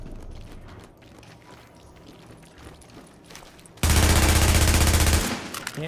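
Sustained burst of automatic gunfire in Tom Clancy's The Division, loud and dense for about a second and a half after a quieter stretch of game ambience, then cutting off abruptly.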